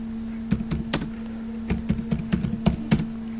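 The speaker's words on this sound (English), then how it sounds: "So this is how we can type in Microsoft Word or word processor." Fingers type on a computer keyboard while writing in Microsoft Word, producing quick irregular bursts of crisp key clicks close to the microphone, with short pauses between runs and no speech.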